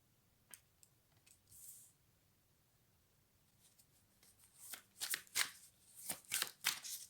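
Tarot cards being shuffled and drawn, quiet scattered flicks at first building to a cluster of crisp riffling snaps close by in a near-silent room.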